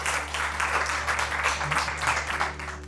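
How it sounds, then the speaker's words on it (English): Audience applause at a staff award ceremony, steady dense clapping throughout at moderate level with a low hum underneath and faint voices. "One more round of applause."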